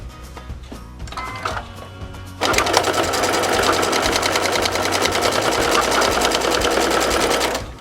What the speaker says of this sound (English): I'm going to go ahead and stitch down this line.